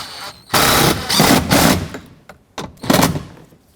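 Ratcheting an 8mm bolt into the door handle hole of a 2009-2014 Ford F-150 rear door, close and loud, with bursts of rapid clicking broken by short pauses.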